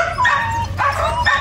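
A Belgian Malinois dog gives a string of high whining yelps and short barks, close and loud, with whimpering cries rising and falling and no talking.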